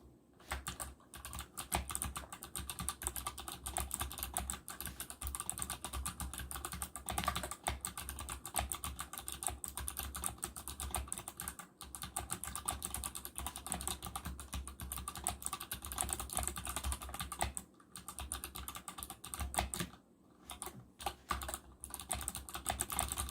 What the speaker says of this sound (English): Now here's a brief typing clip.